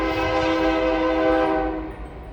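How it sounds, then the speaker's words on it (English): A train horn blares in a long sustained chord over the low rumble of a passing train, fading slightly toward the end. "And here comes the train."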